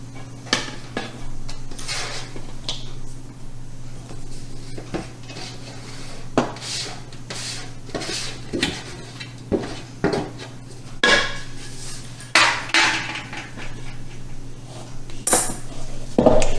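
A utensil scrapes and clinks against a bowl while zucchini is stirred into thick chocolate bread batter, irregular knocks and taps over a low steady hum.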